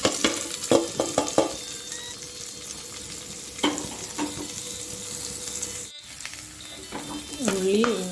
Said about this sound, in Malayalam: ഇഞ്ചി മുളക് എല്ലാം നല്ലതുപോലെ മൂത്ത് വന്നിട്ടുണ്ട്